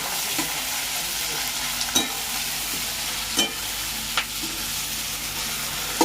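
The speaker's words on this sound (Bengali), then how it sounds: "এই যে পেঁয়াজগুলো দিয়ে দিল কড়াইতে। কড়াইয়ের তেলটা খুবই গরম হয়ে গেছে।" Onions fry in very hot oil in a wok, giving a constant loud sizzle broken by occasional sharp clacks of a spatula being stirred against the metal.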